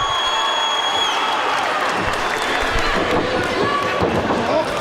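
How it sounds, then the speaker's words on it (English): Wrestling arena crowd cheering and clapping for Rich Swann during a match, a continuous loud roar of fans with ring thuds, and a commentator's voice talking over it. "Listen to this crowd firmly behind Rich Swann here."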